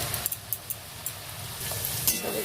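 Onion frying in a pan for chili chicken and fried rice, a soft, steady sizzle with a few light clinks of a spatula against the pan.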